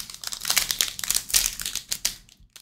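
A Panini Select baseball card blaster pack wrapper is ripped open by hand, giving close, bright crinkling and tearing bursts in a quick, uneven rhythm over about three seconds, with no talking.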